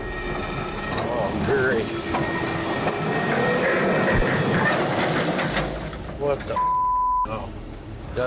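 A troubled swing mechanism on a 460 excavator at a gold mining site gives a heavy, continuous grinding clatter with metallic squeals, while people talk over it.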